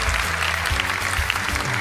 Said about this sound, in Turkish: Şahin için büyük bir alkış.